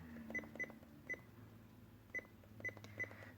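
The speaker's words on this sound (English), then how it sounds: "Notice that every time I hit the button now, it makes a sound." Short electronic key-press beeps from a police scanner, about six of them at uneven intervals, faint over a low background hum.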